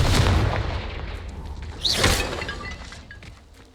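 A Confringo fire spell blast from the Hogwarts Legacy video game: one loud, explosive burst about halfway through, rising over a dense rumbling background and then fading slowly.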